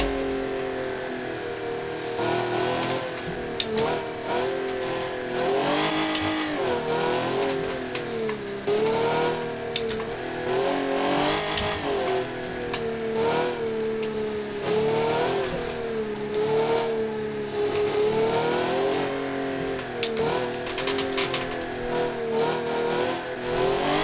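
In the BeamNG driving game, the engine of a Crown Model 10 Daily Track Sport car revs hard under throttle on a track, its pitch rising and falling through corners and gear changes, loud and continuous with faint tire noise.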